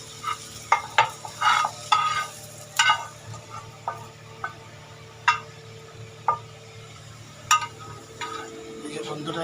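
A spice tempering for dal fries in oil under a low, quiet sizzle, broken by sharp spoon clinks and scrapes against the pan at irregular intervals.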